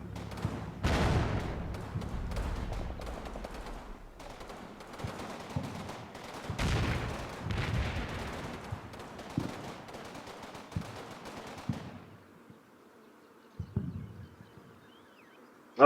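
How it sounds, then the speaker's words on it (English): Video game gunfire from a World War II fortress battle: scattered bursts of shots and booming impacts, some rapid and rattling, others single, at mixed distances, fading toward quieter stretches near the end. "Oh, this guy's shooting, is it?"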